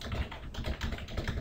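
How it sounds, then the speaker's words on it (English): Rapid typing on a computer keyboard, a steady run of close, crisp key taps in quick irregular rhythm, with no speech. "I was just kind of typing that out to see what's going on"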